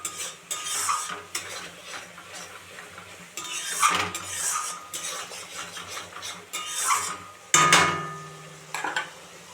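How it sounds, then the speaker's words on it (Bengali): Ginger paste and spices are stirred and fried in a pan for a home-style chicken curry, with a spoon scraping and clinking against the metal in uneven bursts over a soft sizzle, close up and without talk. "আদা বাটা দিয়ে এটাকে আমি কষতে থাকবো।"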